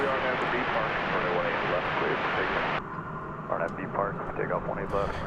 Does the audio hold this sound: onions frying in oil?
no